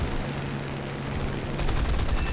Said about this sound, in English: so just machine guns.